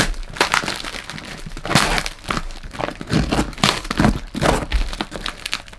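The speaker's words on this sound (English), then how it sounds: "bear with me while I unwrap this" Close, loud crinkling and crackling of wrapping as a package is unwrapped, in irregular rustling bursts that continue throughout.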